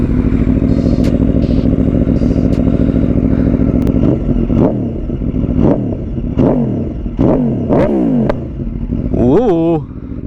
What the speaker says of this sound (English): Let's hear what the Aprilia sounds like at idle.